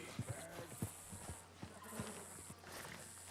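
A horse in the Red Dead Redemption 2 video game clip-clops in quiet, uneven hoof knocks alongside soft snorts and a faint whinny, low in level.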